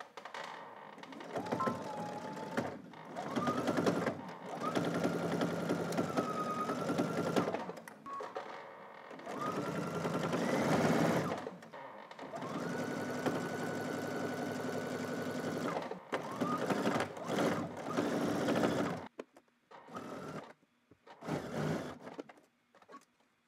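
A sewing machine stitches a narrow zigzag in several runs of steady, whirring, rapid needle rhythm, broken by short pauses and soft thunks as the fabric is handled.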